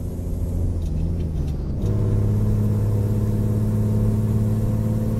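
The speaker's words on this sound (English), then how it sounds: "I might actually rev it out to higher as well and see if what that does" A heavy truck engine in American Truck Simulator revs up high, a loud steady drone that climbs in pitch, dips briefly, then holds a sustained high rev alone.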